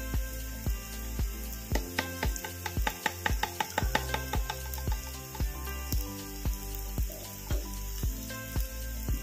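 Turmeric, cumin and coriander fry in a pan for a pork curry. A sizzling hiss runs under repeated sharp knocks and scrapes of a spatula against the pan, close and loud.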